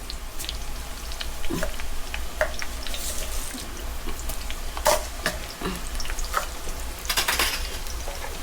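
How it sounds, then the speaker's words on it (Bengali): Fenugreek seeds crackle in hot oil with onions for a snakehead fish dopiaza, a constant sizzle broken by scattered pops and spoon clatters against the pan. "এখন মেথি দিয়ে দেবো এই তেলের মধ্যে"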